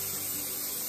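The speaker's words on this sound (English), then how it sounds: "I'm going to spray my tray because we don't want them sticking in" Cooking spray hisses onto an air fryer tray in one short, continuous close-up burst, loud and alone with no talk.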